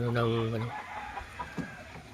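Chickens drinking water from a plastic ice cream container lid, with one drawn-out, throaty call up front followed by a few soft, close clucks against quiet background noise.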